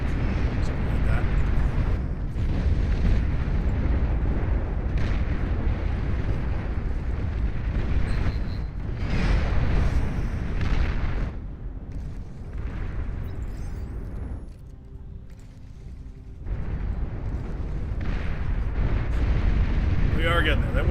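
Continuous rumbling artillery and missile fire in the real-time strategy game Beyond All Reason, a dense, loud wash of overlapping explosions and booms with brief lulls, a voice talking over it.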